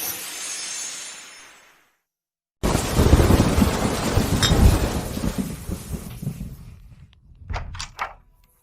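Heavy rain hisses outside, cuts to silence, then returns with a loud, deep rumble of thunder that swells and fades, ending with a couple of sharp knocks or bangs.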